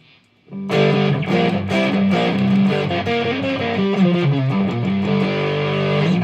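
An electric guitar played through a Behringer OD300 overdrive distortion pedal strums loud, saturated, almost fuzzy chords that ring out continuously after a brief quiet start.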